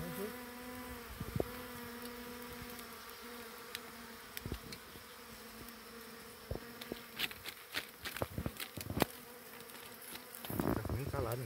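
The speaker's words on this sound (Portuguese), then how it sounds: "Barulho dessas abelhas no meu ouvido" Honey bees swarm around a honey harvest and bee rescue, their steady buzzing hum close and continuous, with sharper passes as individual bees fly near, and scattered handling noises growing toward the end.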